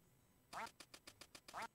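A duck quacks in the Duck Hunt video game, a rapid string of short, nasal quacks starting after a brief quiet, with the loudest calls at the beginning and end.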